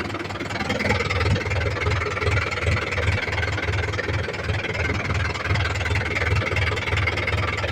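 A tractor engine runs on a farm field, a loud, steady low chugging with an even, regular thump that continues throughout with no voices.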